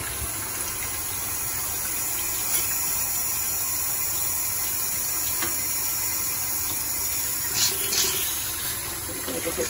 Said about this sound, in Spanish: Cuidado con la olla de presión, porque hay que sacarle el aire con una agua fría